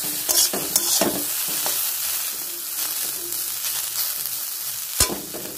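Curry with fried egg being stirred in a frying pan, a soft sizzle running underneath while a spatula scrapes and taps the pan in irregular strokes, with a sharp clack near the end.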